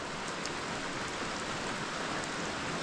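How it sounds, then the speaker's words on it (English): Steady rain patters on a trail in the Maine woods, a dense continuous hiss with scattered raindrop ticks, fairly close and unbroken. "we will wait and see what this rain does"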